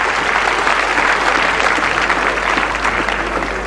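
Audience applause for the Chairman of Achievers at a debate grand final, a loud, full, even wash of clapping from a large crowd that holds steady throughout, with a low hum beneath.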